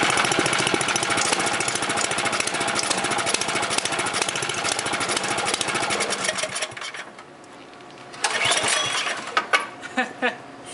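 A Craftsman snowblower's 11.5 horsepower, 250 cc four-stroke Briggs & Stratton engine cold starting, clattering loud and steady nearby before dropping off, then a few sharp knocks and a brief restart.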